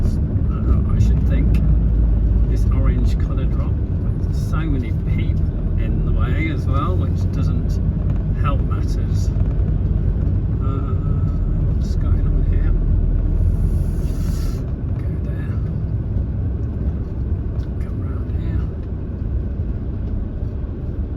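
A car drives slowly along a narrow, rocky road through rock cuttings in Corsica, its engine and tyre rumble steady and close, with someone talking over it throughout.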